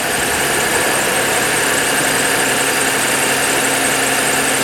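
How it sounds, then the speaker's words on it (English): A car engine that has just started on a cold day idles steadily and loudly up close, giving a continuous rough, rumbling drone. "Sounded a little funny starting up, but it is cold out, so I think it just kind of cranks slow on that first go"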